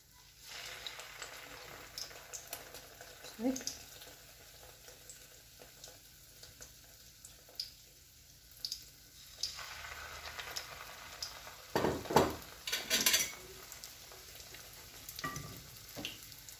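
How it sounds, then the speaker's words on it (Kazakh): Breakfast food frying in a pan, a soft continuous sizzle with scattered crackles and louder bursts of spitting oil and scraping as the food is turned, no talk. "екі жағынан осып қуырып аударасыздар."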